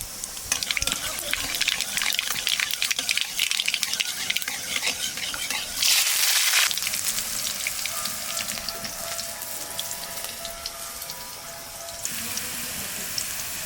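Green chillies and black cumin sizzle in hot oil in a pan, a dense steady crackle close up with occasional stirring and utensil clinks, a voice talking over it.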